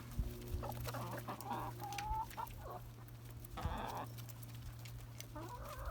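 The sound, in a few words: hens clucking excitedly over GrubTerra treats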